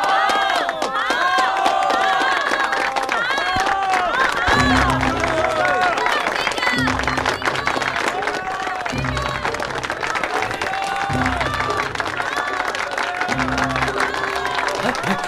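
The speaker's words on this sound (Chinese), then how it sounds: "下面我们请大家以热烈的掌声来欢送郑世" An audience gives warm applause and cheering to send off a speaker after a lecture, a dense steady roar of clapping and crowd voices with rhythmic low thumps underneath.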